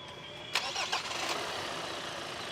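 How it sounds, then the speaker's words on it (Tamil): A premium SUV engine cranks and catches with a small, brief rumble, then settles into a steady, even idle heard up close with no talking. "ஒரு சின்ன என்ஜின் ரம்பிளோட தான் இந்த போர்ஷன்லேயே ஸ்டார்ட் ஆகுது."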